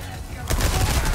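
Gunfire in Resident Evil 4 Remake, Separate Ways mode, bursts in suddenly after a quiet start and continues as a dense, loud barrage of shots to the end.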